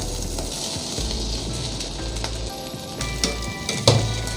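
Zarda sweet rice with rasgullas being mixed in a pot, with soft scraping and stirring plus a few sharper knocks of the spoon against the pot near the end, close and without talk.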